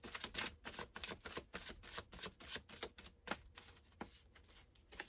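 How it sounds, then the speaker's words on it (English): A deck of tarot cards being shuffled close up, quiet crisp riffling and flicking in quick irregular bursts with no talking. "I'll give it 2 more shuffles of the full deck."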